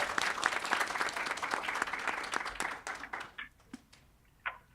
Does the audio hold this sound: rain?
no